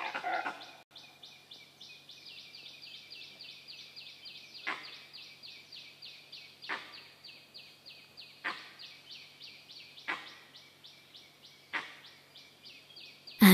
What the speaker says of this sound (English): Jungle rises in the morning with the twittering of birds.